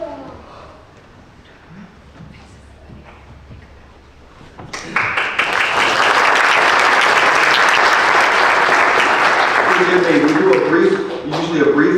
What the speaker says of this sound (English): then we'll have a brief applause when they finish as well.